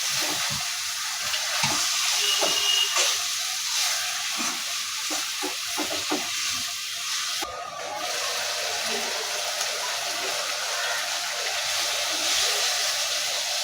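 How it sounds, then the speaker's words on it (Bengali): Desi chicken cooks in a pan while a spoon stirs it, scraping and clacking over a constant sizzle. The strokes are irregular through the first half, then only the steady frying hiss remains. "আমরা একটু পরপরই নেড়ে দিব এভাবে তাহলে ভালোভাবে সেদ্ধ হবে"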